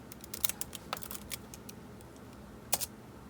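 Keys clicking on an iBook G4 laptop keyboard: a handful of quick, light keystrokes in a loose burst, then a pause and one last sharper tap, faint over a steady room hiss with no talking.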